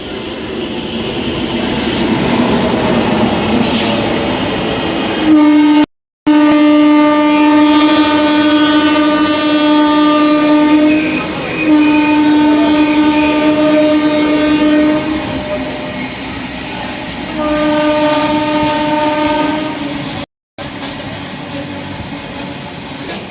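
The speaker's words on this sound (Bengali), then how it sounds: "আর একটা ট্রেন এসে গেছে।" A train passes close by on a railway, its loud rumbling run carrying long sustained horn blasts and metallic wheel squeal, steady and dominant throughout.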